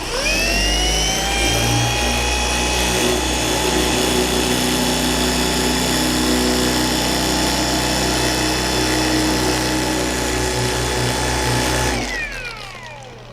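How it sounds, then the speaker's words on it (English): An electric car polisher runs continuously on a painted panel, a loud, close, steady whine that holds evenly before spinning down at the end, with no talking. "I'll move the polisher and you can see the heat."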